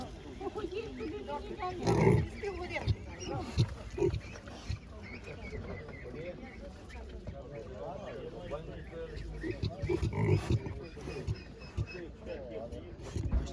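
Piglets squeal loudly in bursts over steady market crowd chatter, with the sharpest cries near the start and again toward the end.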